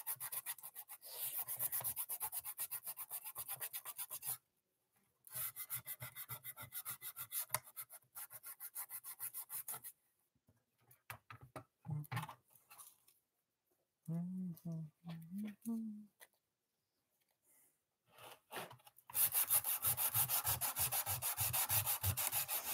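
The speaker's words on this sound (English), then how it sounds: "wasn't planning on sanding for this long, but I'm in the mood for sanding now" Paint is sanded off a toy blaster in long runs of rapid, raspy back-and-forth strokes, close and steady, broken by pauses with brief handling sounds and a few spoken words.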